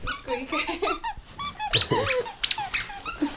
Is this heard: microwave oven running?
no